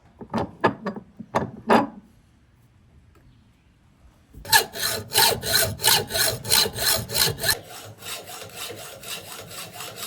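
A hand saw cuts through a steel crescent wrench to shorten its handle, giving a few sharp scrapes and then a long run of steady, rhythmic rasping back-and-forth strokes, close and loud, with no talk.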